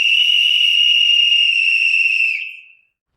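A single shrill whistle blown in one steady, loud, sustained blast of about two and a half seconds that then fades out, heard alone.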